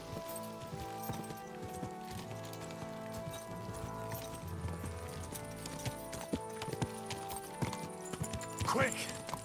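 A horse gallops in the video game Kingdom Come: Deliverance 2, with continuous rhythmic hoofbeats throughout and a brief whinny near the end. Someone talks over the hoofbeats.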